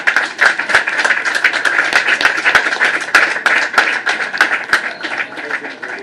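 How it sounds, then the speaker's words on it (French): A general assembly audience applauds with dense, continuous hand clapping, moderately loud and close, with scattered sharper individual claps and faint voices underneath. "On peut applaudir."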